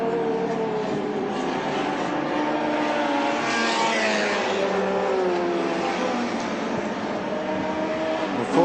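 Touring race cars racing at Lakeside in the 1984 ATCC, engines droning loudly and continuously with shifting pitch as cars pass, no talk.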